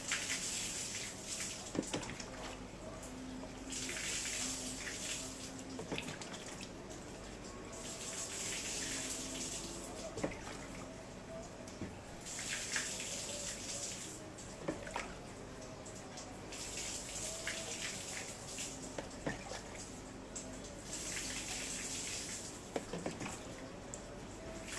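Water poured steadily over mung bean microgreens from a tap or container, a continuous splashing flow with brief drips and small knocks throughout.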